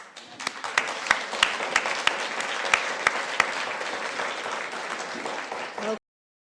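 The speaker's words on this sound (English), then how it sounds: "And so you can have a round of applause for yourselves." Conference audience applauding together in a large room, a dense, steady wash of clapping with a few sharp louder claps standing out, lasting about six seconds and then stopping abruptly.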